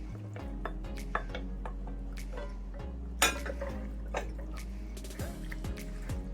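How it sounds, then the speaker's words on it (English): Pasta being stirred into a potato-thickened vegan sauce in a pot, with soft wet sloshing and occasional spoon scrapes and clinks against the pot, fairly quiet and steady. "And just stir in everything."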